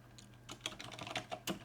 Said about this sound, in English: we are going to type in